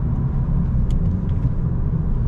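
A VW GTI with 300 horsepower cruising in a high gear, heard from inside as a smooth, steady low engine and road rumble, fairly loud and continuous with no talk.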